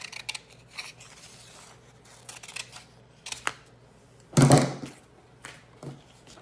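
A few sharp snipping sounds from scissors, with one louder, fuller cut standing out midway, alone and close by.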